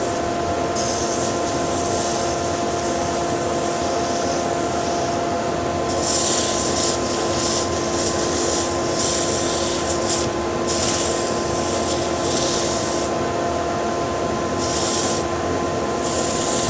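Hand sanding a wooden fish carving with 240 grit paper, a steady close rasping rub that keeps going throughout, with brighter bursts of scratching as the piece is turned.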